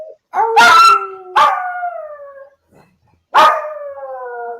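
A dog indoors gives three loud, close howls. Each starts sharply and trails off into a falling wail, with short pauses between them.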